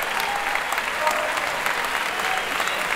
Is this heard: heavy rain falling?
no